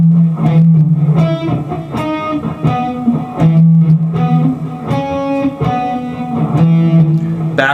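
Electric guitar plays a solo, a string of picked, lightly distorted single notes in a steady rhythm, close and clear, with no voice over it.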